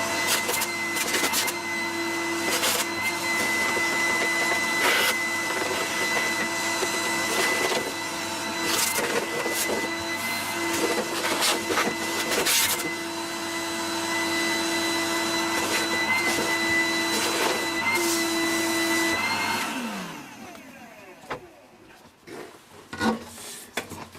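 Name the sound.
vacuum cleaner with vacuuming brush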